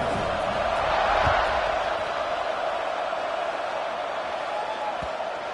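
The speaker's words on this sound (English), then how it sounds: "They're set to kick it off, and this crowd now ready to get behind them." Video game stadium crowd before a football kickoff in Madden, a steady dense roar of many voices swelling slightly early, then holding as a continuous loud wash.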